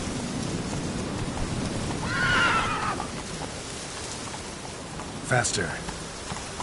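Horse from The Witcher 3 video game neighs once loudly mid-clip while galloping hooves and rain patter continue underneath, with someone speaking briefly.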